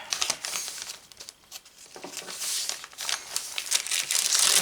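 A paper bag is handled and crinkled up close, with bursts of crisp rustling and crackling that come and go irregularly, pausing briefly before louder crumpling near the end.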